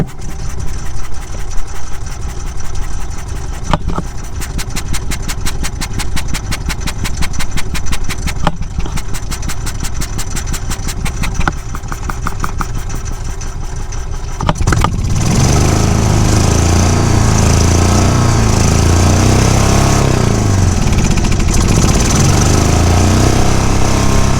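A golf cart's small engine cranks and then catches, settling into a steady, loud running drone up close, with rapid pulsing from the cranking before it starts.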